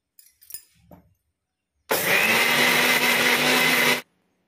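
Kitchen blender grinding apple pieces with two spoons of sugar: after a few brief clinks and taps, a loud steady motor whir runs for about two seconds, close and alone, then cuts off abruptly.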